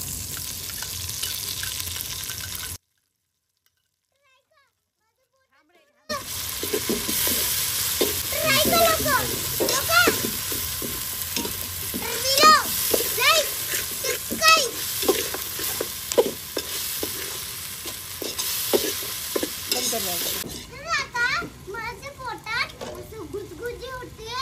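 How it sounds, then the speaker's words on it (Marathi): Masala with ginger garlic paste sautéed over a wood-fired chulha for prawn rice, giving a continuous sizzle with stirring scrapes, broken by a brief silence, while a child and adults chatter nearby throughout. "तर इथं आता सगळा मसाला आपण परतून घेतलेला आहे छानपैकी"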